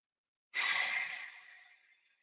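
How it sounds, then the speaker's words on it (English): A single deep exhale during a mobility breathing exercise, a soft breathy sigh that starts abruptly and tapers off over about a second and a half, close and quiet, alone. "And as we're breathing here, we're just going to breathe for a couple more minutes."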